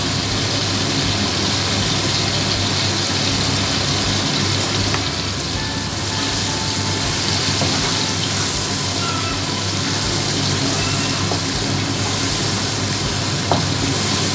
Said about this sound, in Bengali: মাংস দেওয়ার আগে মশলাটা একটু কষিয়ে নিলে ভালো হয়।